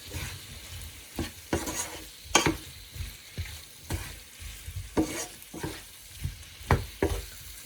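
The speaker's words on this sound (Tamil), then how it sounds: "ஸ்டர் பண்ணி அதை ஃப்ரை பண்ண அந்த கறி எல்லாம் அதில் இருக்கிற மிக்சர் எல்லாம் வந்து இந்த பன்னீரில் சேர்ந்து ஃப்ரை ஆக வேணும்" Paneer stir-fries in a pan for a Sri Lankan dish, with rhythmic scraping and tossing strokes over a steady, soft sizzle, heard up close with no talking.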